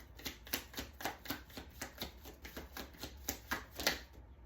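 Tarot cards riffle and snap in quick, steady rhythm, a close, continuous run of crisp flutters and taps as the deck is shuffled and cards are pulled, quiet overall and with no talking.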